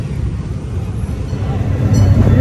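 A train in motion, heard from inside the car on a ride in the USA, a continuous low rumble and rattle that swells slightly over a couple of seconds, with no clear talk over it.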